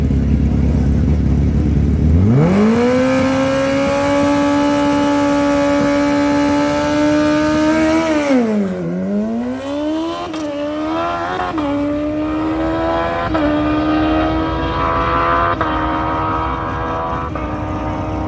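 A tuned race car fires up for a test pass and settles into a loud, sustained high-pitched engine drone, dipping and climbing with revs before holding steady again.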